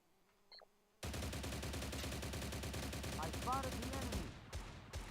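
Rapid automatic gunfire in the shooter game STALCRAFT, a loud sustained burst of many closely spaced shots lasting a few seconds, with short bursts after a faint quiet lead-in and no talking over it.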